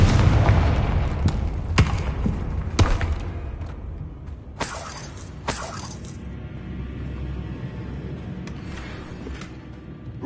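Confringo blast spells in Hogwarts Legacy go off as several loud booming impacts with sharp cracks and crackling tails, the first few close together, then a pair of bright bursts, fading to a low rumble afterward.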